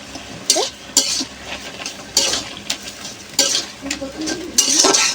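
Salted fish and taro greens are stirred in a sizzling pan, with a spatula scraping and clinking against the metal in irregular bursts over a steady frying hiss.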